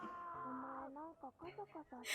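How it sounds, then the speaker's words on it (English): A cat meows in a drawn-out, wavering cry, followed by several shorter choppy meows, fairly close and clear. "Oh, she's playing with a cat."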